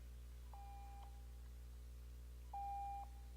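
Two short electronic beeps from a speaking-time limit timer at a public task force meeting sound about two seconds apart. Both are clean tones over a quiet room hum.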